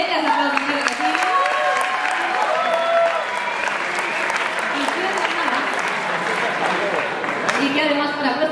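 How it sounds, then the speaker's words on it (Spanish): A crowd at a presentation event claps continuously, with voices talking and calling out over the applause throughout. "Venga, aplausos, que sigue."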